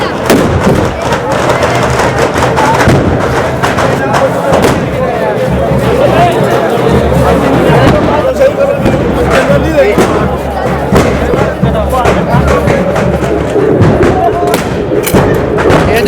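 Gunpowder guns fire repeatedly during the Barood ki Holi festival in Menar, a crowded outdoor celebration with thuds and booming blasts scattered through the clip amid constant crowd noise and people talking.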